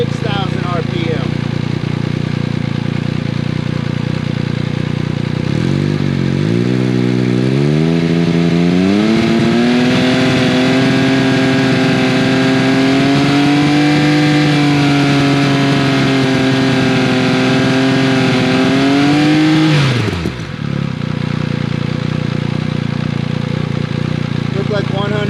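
Motorcycle fitted with an SC Project CRT exhaust, recorded outdoors, idles loudly then climbs steadily to around 6,000 RPM and holds there for about ten seconds before snapping back down, close and dominant, with a voice talking over parts of it.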